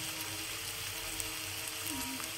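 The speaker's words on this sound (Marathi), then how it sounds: "गोल्डन ब्राऊन होईपर्यंत कांदा भाजून घ्यायचा आपल्याला" Onion fries over medium gas until golden brown, making a soft, even sizzling hiss that holds steady, faint and continuous, with no voices.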